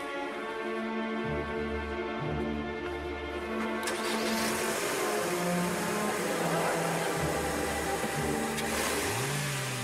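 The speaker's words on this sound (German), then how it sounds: "Da rollt er hin, der Wagen." A car's engine runs and revs with a mid-pitched hum that rises and falls as the automatic car rolls away, slightly muffled, with bursts of rising revving and some faint background noise.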